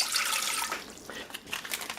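Water poured into a pan on a stove burner alongside butter for cream puff dough, a short soft pouring splash that trickles and gurgles briefly, fairly quiet and alone.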